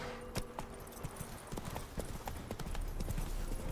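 Horse hooves clip-clop at a steady pace in The Witcher 3 video game, with crisp repeated hoofbeats that are moderately loud and close.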